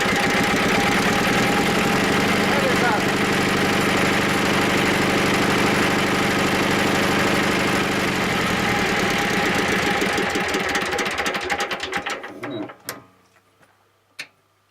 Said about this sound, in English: So with a bit of heat from the glow plug, it should fire up